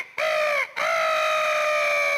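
A human voice imitates a rooster crow as the cry of the Footix mascot, the blue-bodied cockerel of the 1998 World Cup: a short rising call that breaks off, then a long sustained crow, loud and close.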